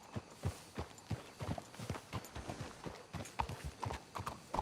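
Horse hooves in Red Dead Redemption 2 clip-clop in a steady, quick rhythm on the ground, fairly quiet and continuous throughout.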